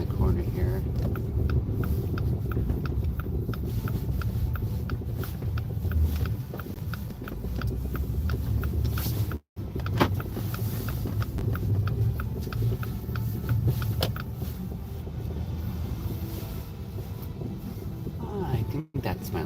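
A car drives steadily around a corner with a continuous low engine and road rumble throughout, with a rhythmic ticking like a turn signal, and talk over it.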